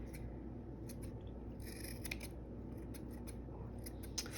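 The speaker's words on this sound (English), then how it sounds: "when you are trimming a pom-pom" Scissors trimming a yarn pom-pom give quiet, close snips in short irregular clusters over a faint steady background hum.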